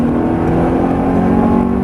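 A race car on the Silverstone circuit accelerates hard out of a corner, its engine a loud, close, steady roar with a strong droning tone that holds for about two seconds, with no talking.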